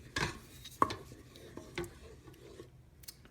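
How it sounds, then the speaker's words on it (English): Country gravy is stirred in a rice cooker, giving soft scraping and rubbing strokes of a utensil against the pot, with a few sharper clinks, close up and fairly quiet. "We'll give this a stir."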